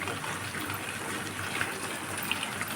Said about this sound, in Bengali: এখানে আমি দুধ অ্যাড করে দিচ্ছি।